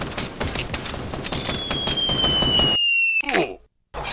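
Rapid automatic gunfire in a multiplayer shooter game rattles continuously for several seconds with a thin whistling tone running through it, then cuts out abruptly before a short final burst.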